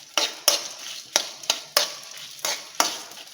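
Bitter gourd curry being stirred and fried in a pan, with seven sharp spoon scrapes against the pan at a steady rhythm over a soft, continuous sizzle, close and fairly quiet.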